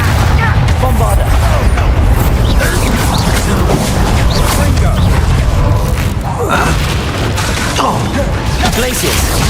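Bombarda explosion spell in Hogwarts Legacy combat, a loud, continuous barrage of booms, cracks and thuds with voices talking over the chaos.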